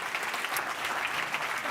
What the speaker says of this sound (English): Give everyone a round of applause who's going to be presenting in this session.